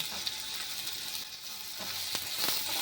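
Steady sizzle of washed, split jujubes hitting hot oil tempered with spices, frying for a chutney with a soft continuous hiss and a few brief spatters, no voices.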